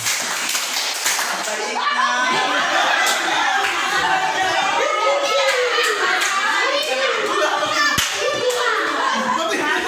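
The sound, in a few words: children clapping to a clap-count game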